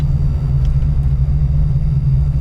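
Engine of a 1991 Ford Mustang LX notchback, a green car, giving a steady loud low rumble that holds level throughout without any clear rise in revs.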